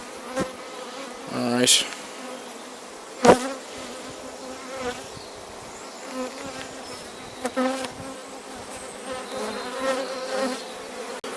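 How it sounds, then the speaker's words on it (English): Honeybees hum and buzz from an open, populous hive, a soft close drone with individual bees flying past, plus occasional knocks of frames being handled and a brief spoken word. "Lovely calm bees."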